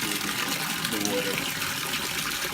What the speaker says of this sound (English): open up the agitator to make the air go through the water